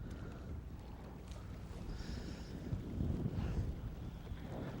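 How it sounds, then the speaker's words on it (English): A bass fishing boat moving slowly on its trolling motor over open water: a low, steady hum and wash of water under wind noise, with faint creaks and no talk. "take the trolling motor and put us back in there"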